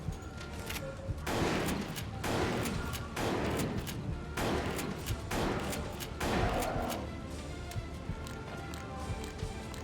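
Handgun fire in a video game rings out as a steady run of loud, sharp shots at roughly one-second intervals, with a faint background hum between them.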